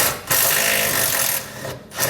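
A 13mm bolt is removed from an emergency brake cable bracket on a 2016 Ford F-series truck with a power tool, making a loud, close whirring burst with short gaps.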